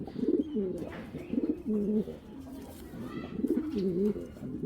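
A highly active male racing pigeon coos in repeated throaty, rolling phrases, close and fairly loud over light background noise, with no talk.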